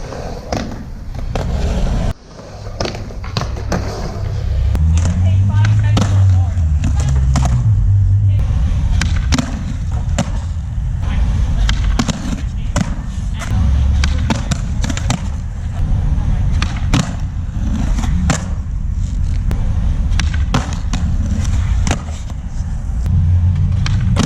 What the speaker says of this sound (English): Nollie 50, nollie 50 180, nollie 50 shove, and nollie 50 big spin